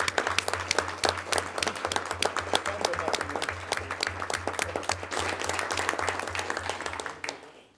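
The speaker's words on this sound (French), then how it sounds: "Là, on peut leur donner une bonne main d'applaudissements." A room full of people applauding, many hands clapping steadily for several seconds before the clapping fades out at the end.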